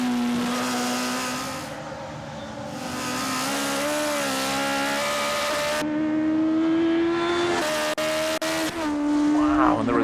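A tuned Mini race car engine revs hard and climbs through the gears, rising and dropping in pitch with sharp shifts, loud and close throughout.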